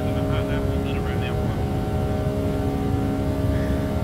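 A Boeing 757 freighter takes off in the X-Plane 11 flight simulator, its engines holding a loud, steady roar with a constant tonal hum that runs the whole time.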